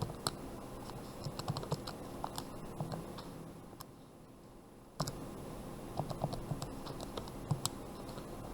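Rapid key presses on a calculator while entering a math problem, irregular light clicks and taps in quick clusters with a brief pause midway, quiet and close with no talking.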